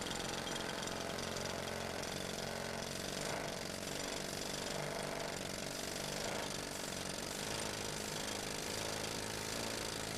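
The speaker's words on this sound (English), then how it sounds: "And this is phosphate he's drilling here in the face." A pneumatic rock drill bores into phosphate at the face of an underground Montana mine, the machine set up with its stinger braced on a board, producing a loud, steady hammering roar that continues without a break.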